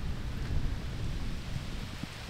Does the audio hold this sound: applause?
no